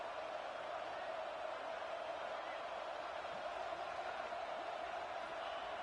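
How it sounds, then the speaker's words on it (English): A steady, roaring stadium crowd in a football video game fills the whole stretch, a dense wash of cheering with no breaks, fairly distant and even in loudness. "they'll have to conquer this crowd noise"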